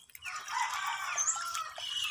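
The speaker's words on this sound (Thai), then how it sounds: "เสียงเจ้ามารวยขันลับกับไก่ของชาวบ้านค่ะ" A bantam rooster crows against the neighbors' chickens at a rural farm, one faint drawn-out crow filling about two seconds with a thin, slightly distant tone.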